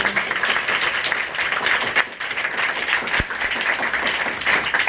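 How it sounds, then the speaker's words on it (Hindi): A crowd applauds loudly and steadily at a public rationalist lecture gathering in Surat, Gujarat, the dense clapping continuing without a break. "एक बार उनके लिए भी जोरदार ताली दो"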